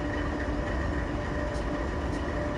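A freight train shunts onto a crossover in a rail yard at km 460 in the Open Rails simulator, a steady close rumble of wagons rolling over track with faint high squeals.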